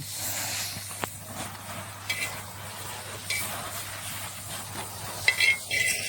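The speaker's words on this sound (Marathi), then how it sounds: "तर मित्रांनो बटर आग पकडतोय." Butter sizzles on a hot griddle with a soft, steady frying hiss and occasional stirring scrapes and light metallic clinks, fairly quiet and with no talk.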